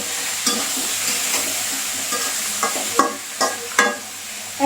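Potatoes and tomato fry in a pan under a steady sizzle. Sharp spatula scrapes and knocks against the pan recur every second or so as the food is stirred.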